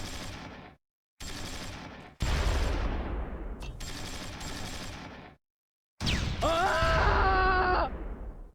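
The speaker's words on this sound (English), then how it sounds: "The machine gun joins in from the ridge." Bursts of gunfire, cannon and mortar blasts from a Close Combat 3 war game battle, loud and in separate volleys with short silent gaps, one later burst carrying ringing tonal echoes.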